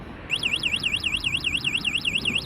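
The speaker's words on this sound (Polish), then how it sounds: "jak alarm się włączy, mamy zablokowane koła" A high electronic alarm from a DYU A5 folding electric bike's anti-theft system wails in a fast, repeating up-and-down siren pattern, steady and fairly loud, continuing without pause over faint background noise.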